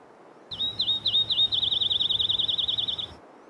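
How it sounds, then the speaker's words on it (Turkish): A single bird sings a rapid, trilling warble close by, repeating quick high notes for a few seconds against quiet. "Uzun uzun kuşların ötüşünü dinledi."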